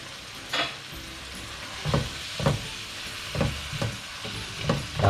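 Tomatoes frying and softening in a pan on low heat, a soft steady sizzle broken by a string of scraping stirs, close up with no voices.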